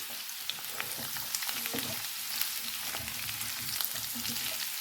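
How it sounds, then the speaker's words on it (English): Potato and cauliflower frying on high heat in a pan, a dense continuous sizzle with scattered crackles and occasional stirring clinks, close and steady with no voices. "Let's add in the cauliflower and keep the heat high."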